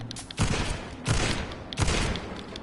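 Three loud gunshot blasts spaced about 0.7 seconds apart, each a sharp broadband crack with a brief decaying tail, a shotgun firing in the video game Vampyr.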